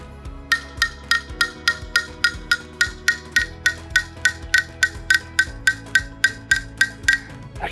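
A spoon taps steadily against a mug of freshly mixed hot chocolate, giving a clear ringing tink about three times per second, its pitch creeping upward over time, close and without talk.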